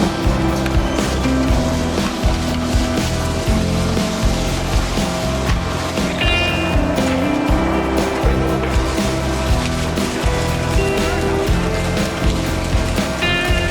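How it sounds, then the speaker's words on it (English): Industrial double-shaft shredder with low-speed cutting discs tearing apart wooden pallets, a dense, continuous loud grinding and crunching of splintering wood over a steady machine drone, with no voices. "The material is powerfully torn and shredded by the talons of the cutting discs."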